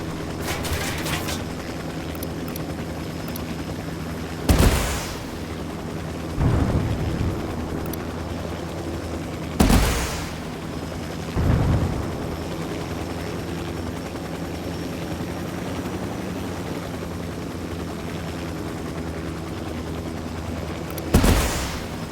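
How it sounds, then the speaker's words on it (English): Gunfire in the video game Ghost Recon Wildlands: a handful of sharp, widely spaced shots and short bursts ringing out over a constant droning engine or rotor hum. "I'm opening fire on these shitheads."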